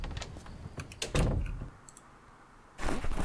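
The back door of a house in Project Zomboid opens with clicks and a brief wooden thunk, then a louder shuffle of movement, close and alone without speech.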